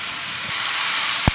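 Kale cooking in a stir-fry pan, a steady loud hiss of steam that swells partway through, with a brief low knock near the end and no talking.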